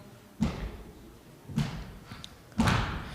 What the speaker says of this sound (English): The cellar doors flew open with a booming sound